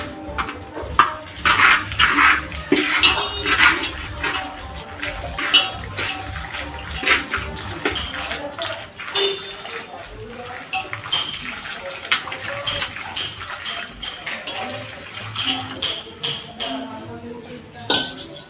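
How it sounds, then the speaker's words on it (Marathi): Water is poured from a metal pot into rice flour in a home kitchen, making a splashy, uneven pour with metallic clinks of the vessel and brief pauses. "तर याच पातेल्याने आपल्याला 7 पातेले पाणी घालायचे। तर अगोदर आपण 1 पातेलं पाणी घालणार आहोत।"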